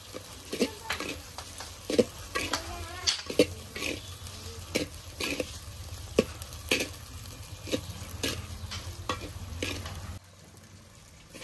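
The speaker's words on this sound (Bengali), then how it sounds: "এর মধ্যে আমি দিয়ে দেবো কাজু বাদাম বাটা। আবারও সব একবার একটু কষে নেব।" Cashew paste being stir-fried into a cooked-down chicken masala, with repeated scraping strokes of a spoon against the pan over a low sizzle, fairly close and steady, no voices.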